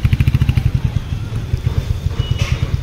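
A motorbike idles and putters close by with a steady rhythmic engine pulse, the beat loosening briefly before settling again.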